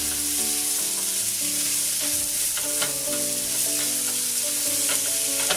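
Onions and garlic sauté in a pan with a bright, constant sizzle and frying hiss, close up and steady. A tonal background hum runs underneath.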